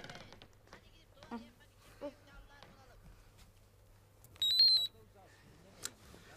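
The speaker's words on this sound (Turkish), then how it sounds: "Nedir bu Allah aşkına bip bip bip bip bip bip bip diye?" A short series of high electronic beeps from a phone receiving messages sounds once, brief and bright, amid quiet background with a few soft voices and clicks.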